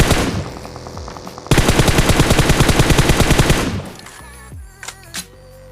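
Rapid automatic gunfire from a battle royale video game: a short burst, then a longer sustained stream of loud, evenly spaced shots, fading into quieter scattered game sounds and a few faint later pops.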